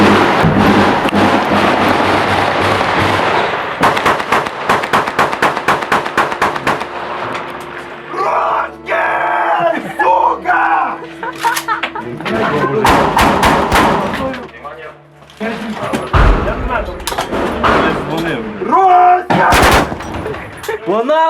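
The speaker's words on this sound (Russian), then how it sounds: "По нам стреляют!" Bursts of gunfire in a war zone, sharp rapid shots and volleys, some close and loud, others more distant, with shouting voices breaking in between.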